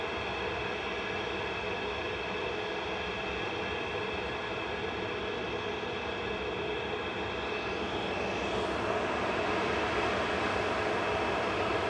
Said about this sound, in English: Ryanair's next up for departure, lined up and ready to go to Santander with flight 9844